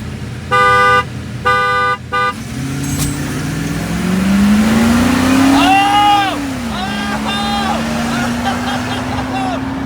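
Two short car horn honks sound nearby, followed by an engine revving up and passing, with voices shouting over the traffic noise.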